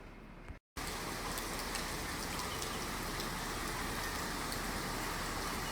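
Steady, dense rain hisses loudly and evenly, continuing without a break after a brief moment of silence near the start.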